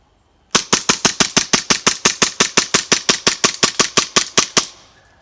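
Elite Force Glock 17 Gen 4 airsoft gas pistol firing rapidly outdoors, about two dozen sharp, snappy shots in a fast even rhythm, loud and close, with no talking.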